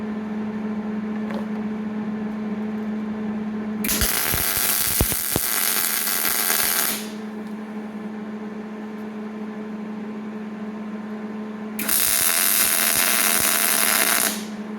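Welding bursts on a link suspension bracket for an S-10 truck: two loud, harsh crackling hisses of about three seconds each, separated by a quieter steady hum, with no talking.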